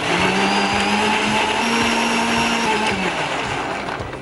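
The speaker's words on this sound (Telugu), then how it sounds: "మరొక్కసారి మిక్సీ చేసేసుకుందాం." A kitchen mixer grinder whirs loudly as it blends oats with milk, its steady motor whine shifting pitch slightly partway through before easing off near the end, with no voices.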